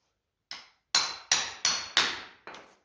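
A hammer strikes a metal punch on the rear end of a 1955 Ferguson TED 20 TVO tractor, six sharp ringing metallic blows, the first light and the rest firmer in a steady rhythm, close and alone.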